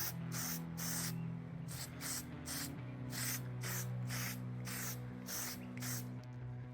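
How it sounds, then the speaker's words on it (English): Copper spray hisses onto motorcycle engine parts from a 1967 Triumph T100C top end, about ten short, sharp aerosol bursts in a steady rhythm over a low mechanical hum in the background. "I think I'm going to stick with copper spray"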